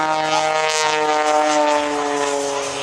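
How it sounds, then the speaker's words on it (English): Aerobatic propeller airplane at an airshow, its engine a loud steady buzzing drone with strong harmonic whine, holding close and constant throughout. "As Michael now falls out of the sky and spin where the airplane was not flying,"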